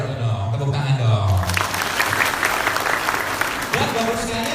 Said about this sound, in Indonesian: Itu dong, tepuk tangan dong.